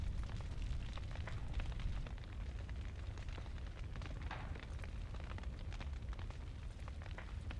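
A fire burning in The Witcher 3 video game, a steady roaring rumble with dense crackling and popping throughout, constant and close, with no talking.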